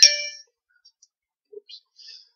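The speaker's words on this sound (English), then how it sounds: "That's a text message." A phone sounds a short bright text message notification chime, loud and close at the start, then fades quickly into near silence with a few faint small ticks.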